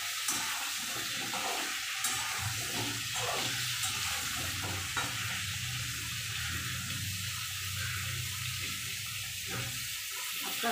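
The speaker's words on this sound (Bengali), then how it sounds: "আস্তে আস্তে এবার ভাজা হোক।" Pointed gourd frying in a pan with turmeric, a continuous loud sizzle with occasional scraping stirs, steady throughout with no talking.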